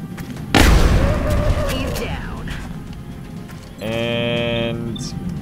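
A grenade goes off in the turn-based strategy game XCOM: War Within, one loud, sudden blast that rumbles and decays over about a second and a half, followed by a tonal game sound.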